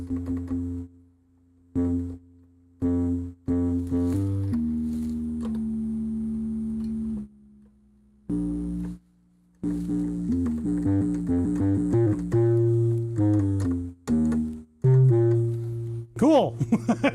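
A modular synth plays steady tonal drones and pitched notes that start and stop in blocks, some gliding upward near the end, loud and close with no voices.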